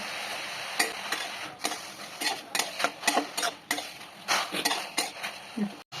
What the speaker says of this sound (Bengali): এই জলটা শুকিয়ে যতক্ষণ পর্যন্ত না ফুলগুলো শুকিয়ে আসছে ততক্ষণ পর্যন্ত ভালো করে ভাজতে হবে